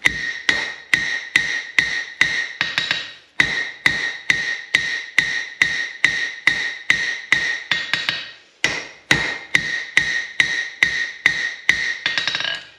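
Steady runs of sharp, ringing hammer blows from a blacksmith striking hot metal on an anvil, near and loud, falling in quick even bursts of about a dozen strikes separated by brief pauses.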